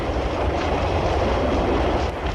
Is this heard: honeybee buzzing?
no